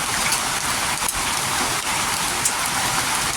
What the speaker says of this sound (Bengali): শিলা বৃষ্টি পড়তেছে, শিলা বৃষ্টি